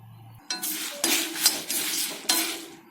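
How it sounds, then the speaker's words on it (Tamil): Coriander seeds dry-roasting in a pan for white pumpkin arachuvitta sambar, with several metal scrapes of stirring against the pan over soft crackling, close and without talking. "பாருங்க பொரியுது பாத்தீங்களா? இந்த பொரியிற சத்தம் கேட்கும்."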